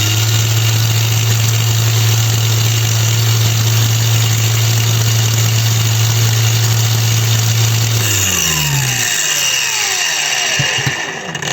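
A DRIVAK AG001 cordless angle grinder runs at full speed with a loud, steady high-pitched whine for about eight seconds, then is switched off and its pitch sweeps downward as it spins down to silence.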